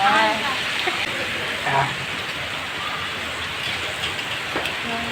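Steady heavy rain pours in Bengaluru during a sudden storm, a dense continuous hiss with a few brief louder bursts and faint voices underneath.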